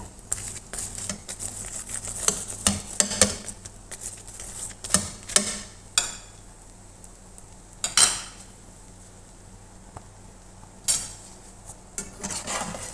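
Scraping and clattering of a utensil on a hot stove pan as a cheese chapati brushed with oil on both sides roasts over high flame, with sharp clinks and taps recurring over a low steady hum and no talk.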